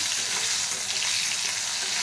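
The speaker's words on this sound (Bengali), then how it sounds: "আলুটা একটু ভাজা ভাজা হোক" Potatoes fry in a hot pan with a loud, steady sizzle that hisses on without pause.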